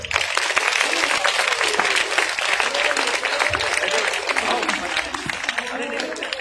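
An audience at a welfare charity's grand event gives loud, sustained applause, dense clapping from many hands filling the room, with a voice faintly audible beneath it.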